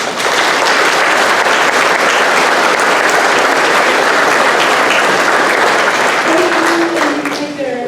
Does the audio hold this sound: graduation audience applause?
yes